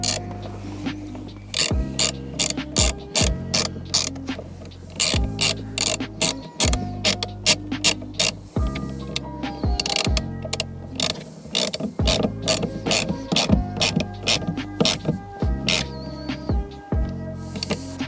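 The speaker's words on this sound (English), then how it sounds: "then get our 10mm ratchet" A 10mm ratchet tightening a car battery terminal nut, rapid rhythmic clicking in repeated bursts separated by brief pauses as the handle swings back, close and loud with no voices.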